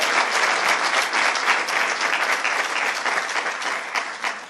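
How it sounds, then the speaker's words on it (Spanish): Steady, dense applause from a sizable crowd, many hands clapping continuously at full volume for several seconds without any voices standing out. "un aplauso para todos los patrocinadores."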